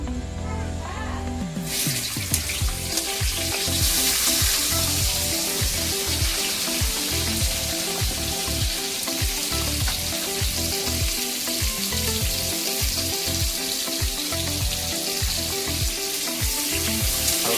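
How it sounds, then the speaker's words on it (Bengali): Constant loud sizzling of potatoes frying in hot oil, a dense crackling hiss that holds steady with occasional clinks and stirring underneath. "এই তেলের মধ্যে আমি আলুগুলো ভেজে দিই"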